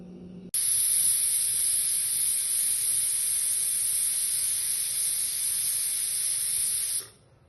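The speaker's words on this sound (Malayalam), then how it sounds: "കുക്കർ അടച്ച് ഒരു എട്ട് വിസിൽ കേൾപ്പിക്കാം" A pressure cooker lets out a loud, steady high-pitched hiss of steam that bursts out suddenly and holds continuously for several seconds before cutting off, close by.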